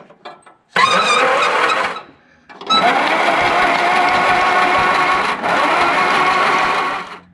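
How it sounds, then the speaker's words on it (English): A 1960 MG MGA 1600 roadster engine cranking over on its starter with the spark plugs removed, two whirring bursts: a short one, then a longer steady spin with a brief hitch, loud and close. "Okay, the engine turns over well."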